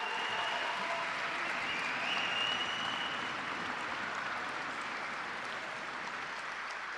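Sustained audience applause fills a hall at the world presentation of the Navya Autonom Cab autonomous taxi, a steady dense wash of clapping heard from a distance that holds evenly for several seconds.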